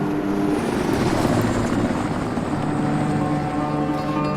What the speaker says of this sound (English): Another friendly helicopter coming in now as well.